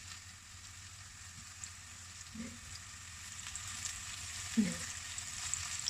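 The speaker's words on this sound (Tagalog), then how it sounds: "Lagay ko na siya para ma-fry." Enoki mushrooms fry quietly in cooking oil, giving a faint, steady sizzle with a couple of soft stirring clinks; someone says a single brief word.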